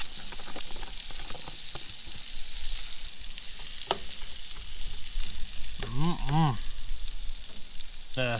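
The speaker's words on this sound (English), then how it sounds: "Onions going in." Onions fry in a hot pan with a constant close sizzle, punctuated by a few clicks and a brief warbling tone partway through.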